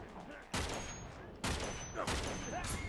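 Blind-fire gunfire in the Uncharted 3 video game, with three loud broadband bursts of shots cutting through a busy game mix with some faint voices.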